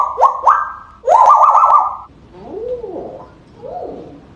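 A grey parrot vocalizes close by with a few sharp whistled calls, then rising-and-falling cooing sounds, loud and alone with no talk.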